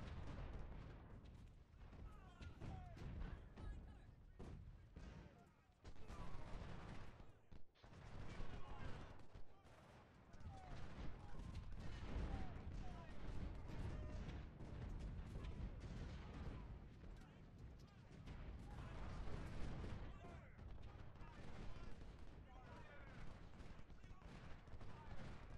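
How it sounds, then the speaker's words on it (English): Musket volley fire crackles in a dense, continuous barrage from Civil War infantry units in the Second Bull Run battle of Ultimate General: Civil War, with loud overlapping shots rolling on and off for the whole stretch. "four units firing on his one cav unit is keeping him busy"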